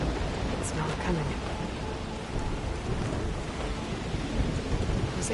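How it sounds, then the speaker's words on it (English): Steady downpour with rumbling thunder in the video game Horizon Forbidden West Burning Shores, a dense continuous wash of rain close by with low thunder rolling underneath and a few sharper rain spatters. "There's the rain. I can smell it coming."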